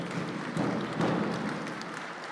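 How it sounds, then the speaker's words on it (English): Applause for a Jingle Dress Dancer at a First Nations university presidential installation, a soft continuous patter of many hands, fairly distant and even, with slight swells, no voices over it. "Let's give her a round of applause."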